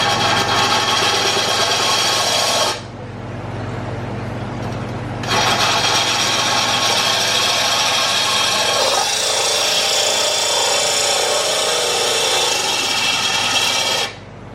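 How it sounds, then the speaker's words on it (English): A continuous high, grinding drill whine with a raspy edge as the bit bores through a thick glass fish tank, running steadily for a few seconds, pausing briefly, then resuming for a longer stretch, close and loud. "so when I drill thick tanks, and I've done this exact same method"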